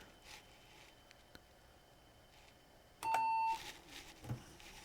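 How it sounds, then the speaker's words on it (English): An IBM PS/2 Model 65SX computer gives a single steady electronic beep lasting about half a second when a key is pressed, over a quiet background hum. "It beeped at me. It says, nope, I don't like you pressing the key."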